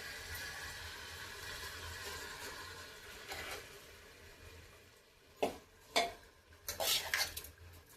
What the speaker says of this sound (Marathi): आणि हे अलगद हलवून घ्यायचं, जास्त नाही हलवायचं, कारण तांदूळ आता भिजलेत छान.